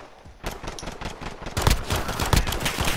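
Rapid automatic gunfire in a Modern Warfare 2v2 alpha match: dense sprays of shots, a lighter burst first and then a louder, sustained volley, close and continuous with no talking.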